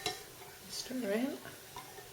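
Melt-and-pour soap for a peach plumeria bar is stirred in its container, making soft, quiet scraping and swishing strokes, with a short stretch of speech in the middle.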